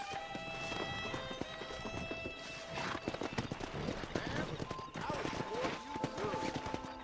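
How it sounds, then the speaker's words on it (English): Hoofbeats of wild horses in Red Dead Redemption on Xbox One X, rapid clip-clop running with occasional whinnies, set against game music and someone talking. "That ranch hand said there's a pack of wild horses nearby."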